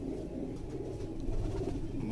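Breeder pigeons coo continuously at close range, low throaty rolling calls overlapping without pause and no talking.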